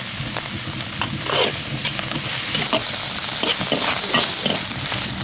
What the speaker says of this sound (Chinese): 料头炒香以后下入猪肉丁儿，把猪肉上的油炒出来以后